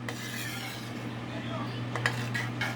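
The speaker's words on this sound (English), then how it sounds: "you have to make sure you stir it so" Warm homemade Alfredo sauce stirred in a pot, with a utensil scraping and clinking against the metal in a steady close rhythm over a low constant hum, a few sharper clinks standing out near the end.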